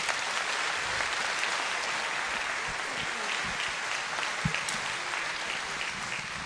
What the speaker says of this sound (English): Let's give our panelists all a round of applause.